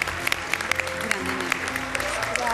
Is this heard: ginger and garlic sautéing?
no